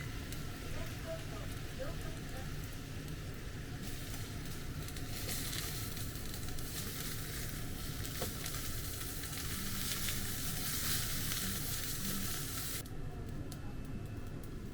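Yakisoba noodles and vegetables frying in a pan, a constant soft sizzle and hiss that swells in the middle then eases, fairly quiet, with no speech over it.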